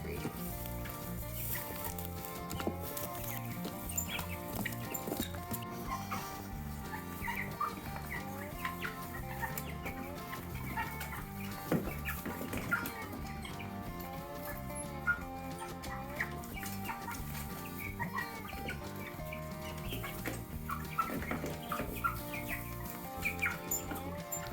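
Cornish Cross meat chickens in an indoor brooder, a dense flock clucking and peeping continuously at steady loudness throughout, with a busy layered chorus of calls.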